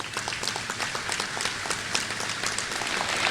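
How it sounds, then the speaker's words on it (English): A commencement audience at a college graduation claps for its professors in a dense, lively burst of applause, close and continuous. "So I want to take a second to give them a round of applause for their awesomeness."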